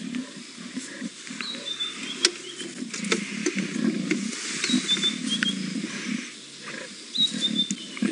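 Lions of a pride feeding on a buffalo carcass on safari, giving continuous low rumbling growls and chewing, tearing sounds at close range, with bird calls chirping faintly in the background.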